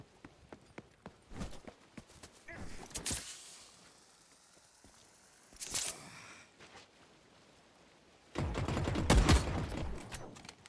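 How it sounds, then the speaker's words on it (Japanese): Bursts of gunfire in the extraction shooter The Cycle: Frontier, several separate volleys of sharp shots with a loud sustained burst near the end, interspersed with quieter clicks and movement sounds. "銃声はしても敵が見えねえんだよな。"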